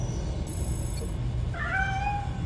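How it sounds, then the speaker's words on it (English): A stray cat in the video game Gotham Knights gives a single drawn-out meow near the end, heard clearly over a steady low ambient hum, with a brief high electronic tone earlier. "Aw, that sounds like a stray cat."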